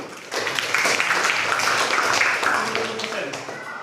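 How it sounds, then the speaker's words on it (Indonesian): Audience applause in a classroom or lecture setting, a burst of clapping that starts suddenly and continues steadily for a few seconds at moderate loudness. "Tepuk tangan dulu."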